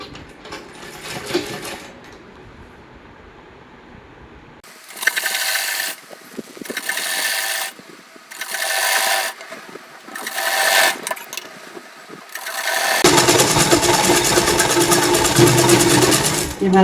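A sewing machine stitches a double-folded hem on a plain shamiz in short loud bursts of rapid whirring, with pauses between runs, then a longer steady run at the end, after a quieter stretch of handling at the start.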